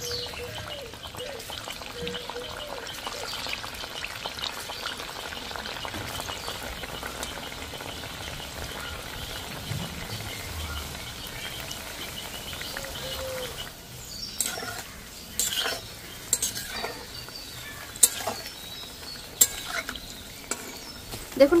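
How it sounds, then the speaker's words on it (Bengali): Semolina and milk-powder snacks fry in hot oil with a steady bubbling sizzle throughout, joined by sharper crackles and pops as more pieces are added, with no talking. "ভাজার জন্য বাকিগুলো আরো দিয়ে দিচ্ছি"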